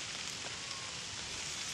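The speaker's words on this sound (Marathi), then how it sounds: "पाऊस यायला लागलाय।" Steady rain falling outdoors over a small vegetable garden plot, a soft continuous hiss of drops at moderate distance with no talk.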